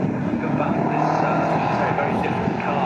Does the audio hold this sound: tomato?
no